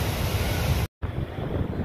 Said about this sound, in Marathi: कळंबा तलावाच्या सांडव्यावरून पाण्याचा विसर्ग मोठ्या प्रमाणात होत आहे